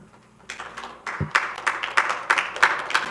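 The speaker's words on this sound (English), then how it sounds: "All right, please hold your applause." Applause from people at a city council meeting rises after a quiet start, with scattered individual claps building into a moderate round that holds through the end.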